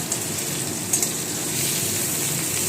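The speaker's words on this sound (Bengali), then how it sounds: "আমি এঁচোড়টা হালকা জাস্ট নুন হলুদ দিয়ে ভাপ দিয়ে নিয়ে সেই জলটা ফেলে দিয়ে এঁচোড়টা ভেজে নিচ্ছি" Young jackfruit, first steamed with salt and turmeric, fries in oil with a steady, even sizzle and a couple of faint clinks, with no voices.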